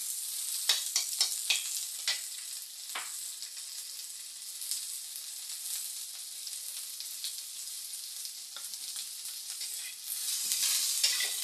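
Onion, ginger and garlic sautéing in a pan, a bright steady sizzle with a few sharp spatula scrapes near the start and a louder burst of frying at the end.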